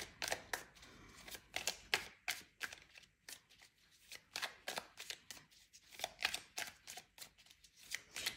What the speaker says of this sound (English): That must be me shaking as I'm shuffling.